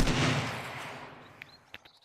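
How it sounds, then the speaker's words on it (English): An AK rifle fires in the survival game 7 Days to Die: one loud blast opens with a long rumbling tail that fades out, followed by two or three brief, sharper cracks or clicks, with no voices. "let's just test out the AK really quick"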